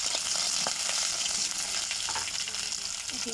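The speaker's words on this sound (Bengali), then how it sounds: "সব সবজিগুলো দিয়ে ভেজে নেব।" Mixed vegetables fry in hot oil after a mustard seed and dried chilli tempering, a loud close hiss of sizzling with faint stirring scrapes underneath, with no one speaking.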